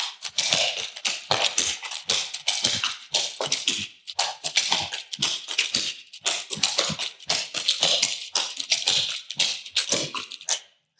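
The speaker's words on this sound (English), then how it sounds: "it sounds a little bit crisper when you have your taps on" Tap shoes beating out Red River Jig footwork, a dense, crisp run of rapid percussive taps in quick repeating patterns, close and loud with no talking.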